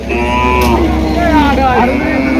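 A loud, close moo from a very thin, bony cow at a cattle market in Chandimura, Cumilla, drawn out and wavering, with a low engine hum underneath.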